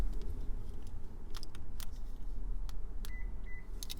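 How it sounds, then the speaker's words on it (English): Toyota Tundra key fob remote, a 2010–2020 model, pressed to lock and unlock, giving short electronic beeps from the truck that come in quick pairs near the end over a low background rumble. "Heard it beep."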